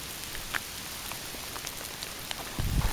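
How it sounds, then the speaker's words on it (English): Heavy rain pours down on a wilderness campsite during a storm, a dense, continuous hiss with scattered drop impacts that grows louder and rumbles near the end. "And that rain's coming down harder."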